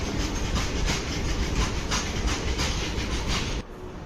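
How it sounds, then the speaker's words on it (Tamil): The West Coast SF Express passenger train pulls into Coimbatore station with a steady, loud rumble and a rhythmic clatter of wheels over the rails, cutting off abruptly near the end. "இது நம்ம ட்ரெயின் வந்துருச்சு."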